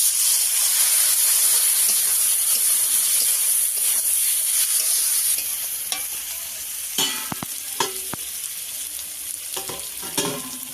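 Loud, steady sizzling of spice paste and water in a hot pan with turmeric, chili powder and green chilies, easing after a few seconds into quieter bubbling with scattered stirring scrapes and clinks.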